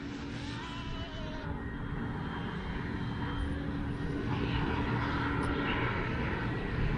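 A constant droning rotor and engine hum of an Airwolf helicopter in flight in a video game, steady and fairly loud throughout, with no talking.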